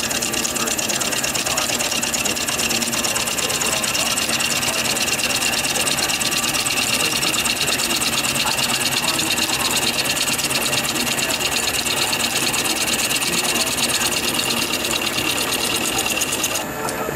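A metal lathe runs continuously while machining a part for a Prince dynamo motor, producing a steady, loud mechanical whir with a dense, even texture and no pauses, heard close up.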